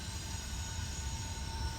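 Freight train rolling through Horseshoe Curve, a continuous heavy rumble of railcars with faint steady squealing tones from the wheels on the curve, close and sustained for the whole stretch.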